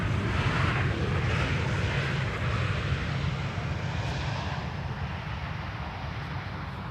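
A KLM airliner arrives on the Polderbaan runway at Schiphol, its jet engines a broad, loud roar heard from outside that slowly fades as the aircraft passes.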